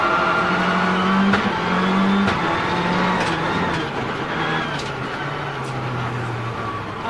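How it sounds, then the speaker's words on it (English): A rallycross race car with a transmission problem drones and revs unevenly, rising and dropping with rough, hesitant surges as it runs at moderate distance. "it sounds like it's a transmission problem"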